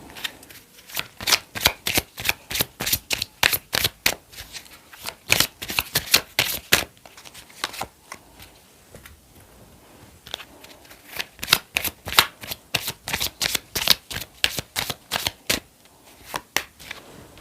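Tarot cards being shuffled by hand, close and crisp, in long runs of rapid riffling flicks broken by brief pauses, steady rhythm throughout with no talking.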